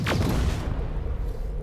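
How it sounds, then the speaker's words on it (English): An explosion in the video game Terminator Resistance: a loud, close boom with a sharp initial blast that rolls into a dense, rumbling low-end tail lasting over a second. "that's the only explosion noise"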